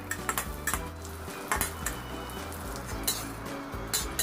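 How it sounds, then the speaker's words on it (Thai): Shallots, garlic and dried chilies dry-roasting in a pan for pork-leg tom yum, a low sizzle under repeated scrapes and clinks of a utensil stirring against metal, close and busy, with no voices. "แล้วก็นำหอมแดงกระเทียมพริกแห้งนะครับ เราจะนำไปคั่วนะฮะ"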